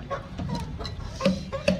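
A few hens cluck in short, scattered bursts nearby, soft and brief.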